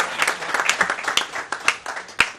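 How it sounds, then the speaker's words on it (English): Audience applause at the inaugural function for a group life insurance policy: a small crowd clapping close by, with distinct individual claps standing out in an uneven, moderately loud burst. "Can we have a round of applause for everyone,"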